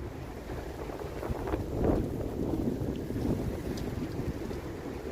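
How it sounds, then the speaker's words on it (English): Wind blowing outdoors at Queen's Park in Toronto on a late-November day, a steady low buffeting rush across the microphone that swells and eases, with no talking. "It's quite breezy now, as you can see."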